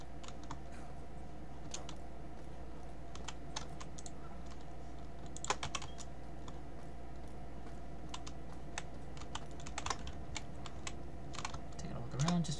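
Quiet, steady clicking of computer keyboard keys during a System Shock game session, with irregular bursts of keystrokes, soft and close, over a low hum.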